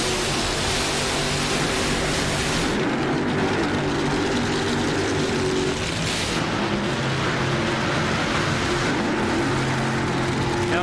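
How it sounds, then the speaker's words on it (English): At an NHRA drag race in Phoenix, a car's burnout roars as a broad, loud, sustained blast of engine and tire noise that cuts sharply partway, then continues, heard from a distance over the crowd and track din. "The first burnout was Jack Beckman."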